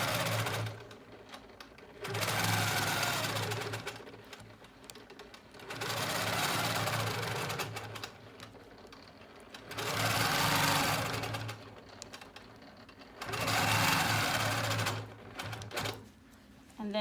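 Longarm quilting machine stitching along a ditch ruler on a quilt, running in four steady bursts of a few seconds each, separated by short pauses, loud and close.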